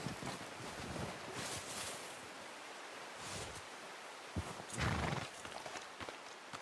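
Horse hooves clip-clop in the open world of Red Dead Redemption 2, with a few louder thuds and a snort-like burst amid steady wind noise, no talking.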